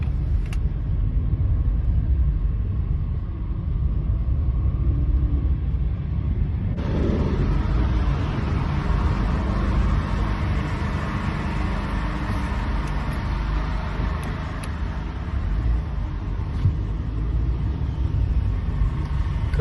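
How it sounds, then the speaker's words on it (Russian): Motor vehicle rumbling past while spraying a substance along a street, a loud continuous low engine drone that swells midway as a hissing spray noise joins in and carries on to the end, with no speech. "едет машина какая-то и распыляет какую-то ерунду"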